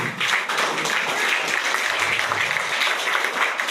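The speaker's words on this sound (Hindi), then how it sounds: "ताली बजनी चाहिए।" An audience at a gathering bursts into steady applause, dense continuous clapping that fills the room for several seconds with no pause.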